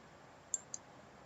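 Two quick, faint computer mouse clicks, sharp and isolated, about a fifth of a second apart over a quiet background.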